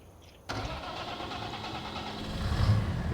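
A tractor engine in a farming video game starts with a sudden catch after a quiet half second, then settles into a steady, faint idling rumble that grows slightly louder near the end.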